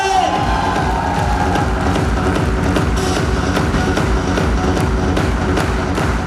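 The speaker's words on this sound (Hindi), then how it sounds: "एक बार जोरदार ताली बजाएं" A large crowd at a speech claps and cheers continuously, a dense, loud wash of applause with scattered shouts throughout.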